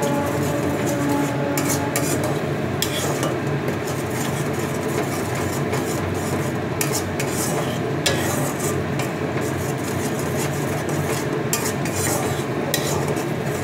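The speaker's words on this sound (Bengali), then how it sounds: "এবার কষিয়ে নিচ্ছি।" Egg curry masala with Kashmiri red chili powder is stirred and sautéed in a pan, a steady loud sizzle with continuous scraping of the spatula and occasional clinks against the pan throughout.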